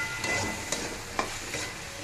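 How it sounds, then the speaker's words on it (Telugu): Ginger garlic paste is stirred into vegetables in a frying pan (kadai), with a steady soft sizzle broken by a few sharp scrapes of the spoon, close and alone. "ఇట్లా మంచిగా కలిపే అల్లం వెల్లుల్లి పేస్ట్ మంచిగా పచ్చలకు మొత్తం పట్టేటట్టుగా మంచిగా కలిపేయాలి"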